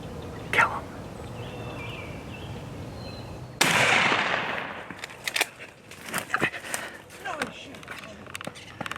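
A single sharp gunshot during a turkey hunt outdoors, a loud sudden blast that decays into rustling, footsteps and movement, with people talking afterward.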